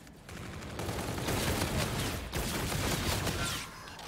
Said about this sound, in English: this shotgun is incredible